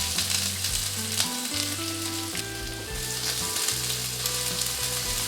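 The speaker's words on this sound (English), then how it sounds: "So we are going to saute the onion." Onion sautéing in olive oil in a cast iron pan over medium heat, a strong, continuous close sizzle with soft background music tones beneath, no talking.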